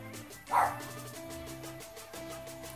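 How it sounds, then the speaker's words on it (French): A dog gives a single sharp bark indoors, heard faintly over steady background music from a video game. "mes chiens ont aboyé comme des crevards"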